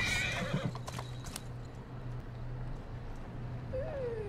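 A horse in the video game Assassin's Creed Syndicate gives a whinny with clip-clopping hooves near the start, then a steady low rumble continues, ending with a short rising squeal.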